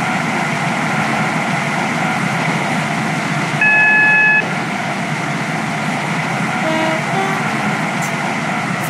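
Carriages of a Stepford County Railway train in the Roblox game run with a steady, continuous low rumble and broadband hiss, with a brief two-tone chime and a few faint higher squeals over the constant drone.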